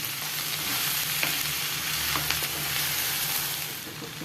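Steady sizzling and crackling of drumstick flowers frying in a pan, with occasional stirring scrapes, close and continuous.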